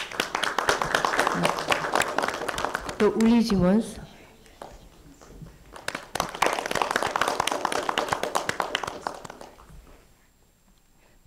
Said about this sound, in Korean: 박수 부탁드려요